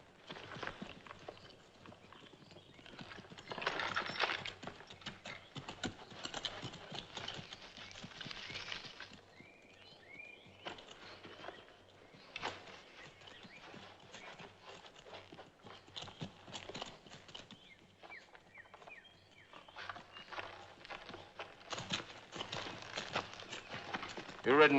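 Horse hooves clip-clop steadily on hard ground at moderate distance, an uneven walking rhythm that swells and fades over nearly half a minute while people talk nearby.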